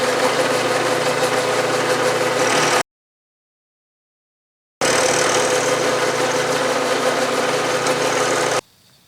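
A Bridgeport milling machine cutting a V groove runs with a steady mechanical hum and tonal whine, stopping in the middle for about two seconds and then resuming at the same level before cutting off near the end.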